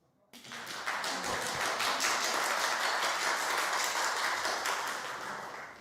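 An audience applauding during a Q&A meditation talk, a steady, dense wash of clapping that starts abruptly and holds at moderate loudness for several seconds, heard from some distance in the room.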